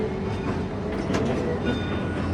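A steam train rolls along the track on the Oregon coast near Tillamook Bay, heard from inside a car as a loud, steady rumble with rattling and faint wheel clatter.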